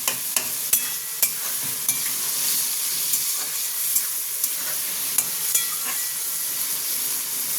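Vegetable chow mein sizzles and hisses in a hot pan, a loud, steady fry broken by regular sharp clicks of a utensil stirring, with no voices.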